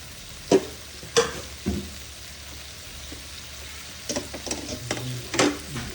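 Pork pieces sizzle and fry in a pan for pakbet, a Filipino vegetable stew. A steady sizzle runs underneath while several sharp scraping and clattering stirs punctuate it at irregular intervals.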